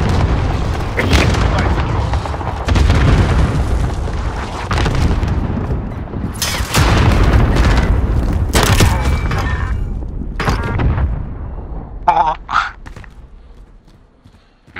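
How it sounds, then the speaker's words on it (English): Cruise missile strikes in Call of Duty Modern Warfare (2019), heavy booming explosions and rumbling blasts in a multiplayer match, several loud impacts in succession with sharp gunfire cracks near the end as the rumble fades. "Allied cruise missile on the way."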